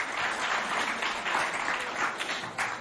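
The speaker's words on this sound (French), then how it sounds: "On applaudit bien fort Oussoumel." An audience applauds for a student poet from the CEG de Doba at a school poetry contest, a steady wash of clapping that holds for a few seconds without a break.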